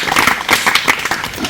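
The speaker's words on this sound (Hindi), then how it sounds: "जोरदार तालियां बजाओ" A school or forest-outreach audience at a Bhajipani Forest program in Ambada range claps loudly together, a dense, continuous patter of many hands close by with no talking.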